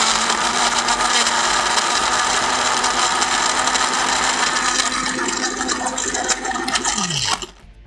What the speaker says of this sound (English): blitz this in your blender for like 5 seconds